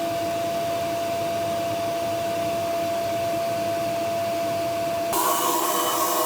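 A vacuum cleaner hums in a steady, even roar while cleaning the fan of a Harman Accentra 52i pellet stove insert. Near the end it turns harsher and louder, as if the nozzle has moved onto the fan.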